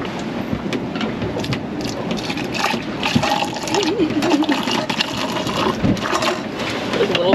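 Boiling water is poured into cups aboard a sailing boat, a continuous splashing, filling gush amid creaks and background motion noise.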